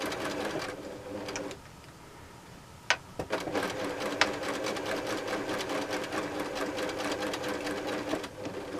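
Domestic sewing machine stitching a circle on a quilt with 50-weight ordinary thread, a steady close whirring run that pauses briefly, then resumes with a few clicks and keeps running to the end.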